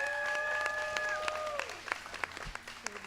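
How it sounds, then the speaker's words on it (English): An audience applauds at a press conference honoring the Greenest Block in Brooklyn contest winners, with a burst of scattered hand claps that follows a fading steady tone. "So I'm going to give you a special round of applause as well."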